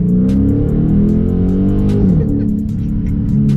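A Charger's engine drones steadily from inside the cabin as the car drives and gathers speed, a low continuous rumble with rising and falling pitch and no talk over it.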